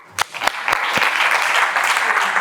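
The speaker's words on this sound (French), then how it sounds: "On peut l'applaudir" Applause from a small group during a lumbar back pain physiotherapy assessment demonstration, a few sharp claps at first and then steady, dense clapping close by.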